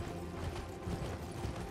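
Horse hooves clopping steadily on the ground in Elden Ring while riding, a faint rhythmic clip-clop mixed with low mechanical game ambience, no talking.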